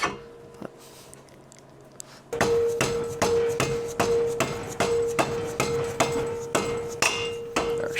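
A hammer taps a Volkswagen Beetle axle into place, about a dozen sharp metallic strikes at a steady, unhurried pace, close and loud with a ringing tone after each blow, following a quiet start.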